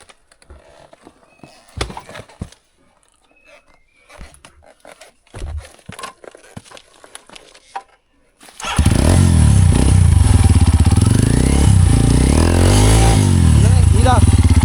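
A motorcycle engine on a rough mountain trail at night bursts in loud and close after a stretch of scattered knocks and faint sounds, then revs up and down steadily until the end.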